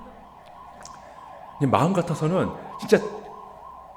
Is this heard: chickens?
no